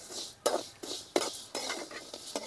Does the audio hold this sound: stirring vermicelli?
yes